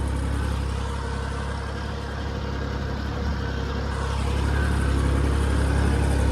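Swaraj tractor engine idling on a farm, giving a steady, loud, low rumbling drone that grows slightly stronger toward the end, with no voices.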